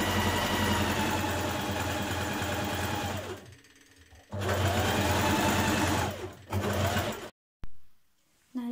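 A sewing machine stitches a 1.5 cm seam on a cardigan in bursts of close, rapid mechanical whirring, stopping briefly twice before a final short run and near silence.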